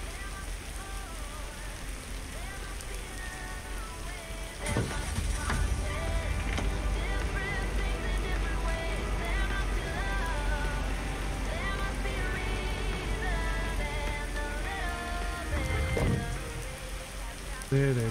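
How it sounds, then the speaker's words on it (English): Steady rain falls in the video game Lake, a dense constant patter on surfaces near a porch, with a couple of brief louder knocks and no talking. "Notice how it's not raining under the porch?"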